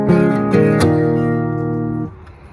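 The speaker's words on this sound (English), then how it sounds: "So it's kind of a dirty strum." Close acoustic guitar with a rough, dirty strum: three quick strokes ring together, then the chord is muted sharply and the sound drops away.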